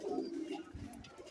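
Pigeons coo in a low, rolling murmur at close range, faint and steady, with a soft knock or shuffle partway through and no clear talk.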